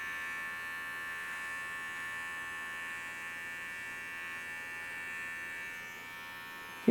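A quiet electric hair trimmer runs close by with a steady, even, thin electric buzz that hums without a break for about seven seconds. It is trimmed against fingers while shaving down to the skin, and no one talks.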